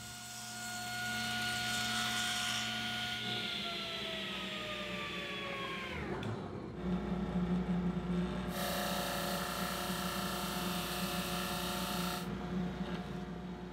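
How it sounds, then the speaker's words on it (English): Drum sander smoothing blade marks off wooden cabinet legs: a steady loud motor hum with abrasive rasping as each leg feeds through, a brief dip mid-run, then continuous sanding rumble. "I'll run the legs through the drum sander to remove the blade marks"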